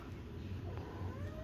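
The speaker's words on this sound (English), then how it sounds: "If you need a cat that you need to have a conversation with, he's your guy." A foster kitten or cat gives a soft meow over steady low background rumble, faint and brief, with no talking.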